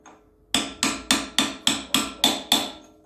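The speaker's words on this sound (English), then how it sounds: "You can just hammer it in there." A hammer strikes metal eight times at an even, steady rhythm while driving a rear wheel bearing into a Land Rover Series 3. Each blow is sharp, ringing and close, with short silences between.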